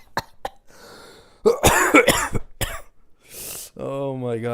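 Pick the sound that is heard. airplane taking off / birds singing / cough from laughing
cough from laughing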